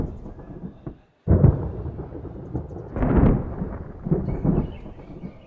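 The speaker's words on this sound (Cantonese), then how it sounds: "行咗成日雷，連一滴雨都落唔出" Deep thunder rolls in a dry storm with no rain: a low rumble, a short silent gap, then a heavier swelling roar that builds around the middle and lingers in long, booming waves.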